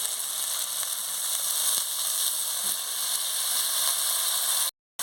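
Water poured into a frying tomato and spice mixture in a pan gives a loud, steady, close hiss of sizzling for several seconds before it cuts off abruptly.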